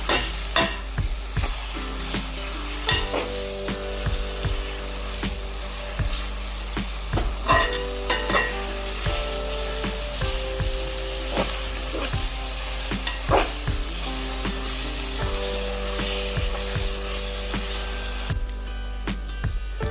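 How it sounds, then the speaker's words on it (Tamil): Cinnamon, cloves, curry leaves and rampe frying in oil in a pan while being stirred, a steady close sizzle broken by frequent clinks and scrapes of the spoon against the pan, with no voices. "கருவேப்பட்டை, கராம்பு, கறிவேப்பிலை, ரம்பை எல்லாத்தையும் போட்டு நல்லா கலந்து கொள்ளுங்க."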